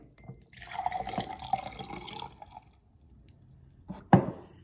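Water trickles and drips as rinse water with residue from washing tomatoes is poured off, a soft splashing stream for a couple of seconds, then a sharp splash near the end.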